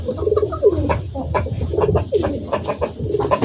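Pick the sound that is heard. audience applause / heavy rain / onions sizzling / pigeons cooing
pigeons cooing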